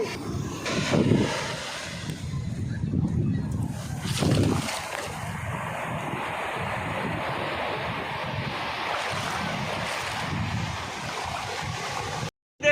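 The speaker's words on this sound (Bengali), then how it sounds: "এত ঠান্ডা হাওয়া আর সমুদ্রর বিকট গর্জন আর বিকট ঢেউ" Sea waves crash and roar steadily at Dabhari beach near Surat, with strong wind buffeting the microphone throughout, loud and continuous with periodic surges of surf.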